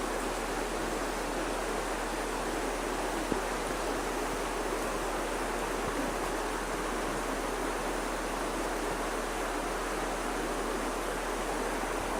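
A river flows along a creek at Otter Creek, West Virginia, in winter, making a steady, broad rushing wash that stays constant and fairly loud throughout, with no voices or other distinct events.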